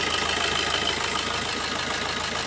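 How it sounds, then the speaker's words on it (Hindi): A car engine idles while a scanner disables one fuel injector, giving a steady, close, continuous mid-pitched drone with a slightly rough, pulsing texture and no talking. "ये देखो कितनी वाइब्रेशन शुरू हो गई है ना, जहाँ से आवाज़ भी चेंज हो गई।"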